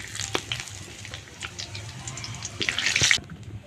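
Bay leaves, broken dried chillies and cumin seeds sizzle steadily in oil with scattered crackles and pops, swelling into a louder, brighter hiss near the end before cutting off abruptly.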